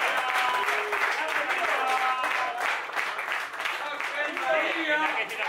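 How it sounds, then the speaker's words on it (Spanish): Applause at a farewell dinner for the 2014 season at the Frontón López in Pamplona, clapping steady through the whole stretch with voices and cheers mixed in, moderately close and sustained. "Un aplauso para Germán Irburu"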